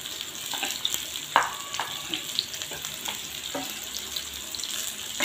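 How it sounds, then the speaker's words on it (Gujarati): Mixed okra tossed into hot oil in a pan, frying with a soft continuous sizzle broken by repeated scraping and clinking of a spoon as it is stirred, fairly quiet and close. "આપણું તેલ સરસ આવી ગયું છે. ભીંડા મિક્સ કરેલા નાખી દઈશું. ચમચાવાળાને આપણે હલાવી લેશું."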